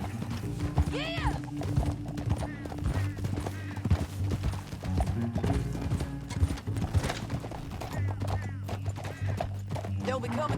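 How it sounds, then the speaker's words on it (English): Horses gallop in Red Dead Redemption 2, with rhythmic hoofbeats pounding over a droning musical score, a whinny cutting in, and voices talking over the ride. "Back on your horse. Let's get after them."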